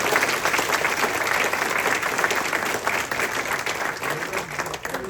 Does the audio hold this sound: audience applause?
yes